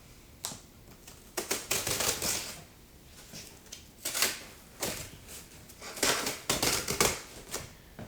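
A heavily taped cardboard box holding a StewMac Wilkinson Modern-S electric guitar kit is cut and torn open, with crackling tape and cardboard rustles in irregular bursts, close and fairly quiet, no voices.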